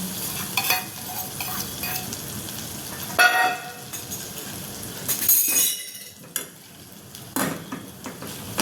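Boiled potatoes are stirred in a pan on the stove, a spoon scraping and clinking against the metal amid a soft background sizzle, with a few sharper clanks and pauses between strokes.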